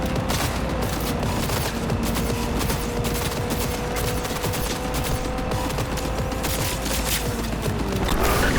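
Dense, continuous video-game gunfire, rapid bursts and automatic fire rattling steadily throughout at a loud, even level with no talking.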